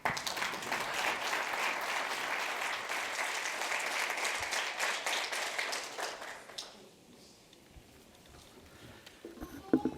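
A seated audience at a CDKL5 patient-focused drug development meeting applauds to welcome a speaker to the stage, a dense sustained clapping that fades after about six seconds into quiet room noise with a few faint sounds.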